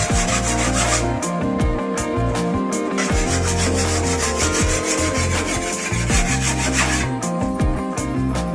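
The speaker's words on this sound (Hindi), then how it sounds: "पहले टोके रगड़ के फिर नाल ही" Fodder chopper blades being rubbed and sharpened in a Punjab village, a continuous loud grinding rasp with steady back-and-forth scraping strokes close by, no talk.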